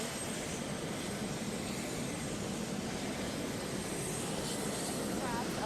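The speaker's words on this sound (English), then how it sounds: "Air Force One is getting closer to its stop" Air Force One, a large presidential jet, taxiing closer on the tarmac during the president's arrival in San Antonio; a loud, steady broadband engine roar holds throughout, with a faint voice partly under it.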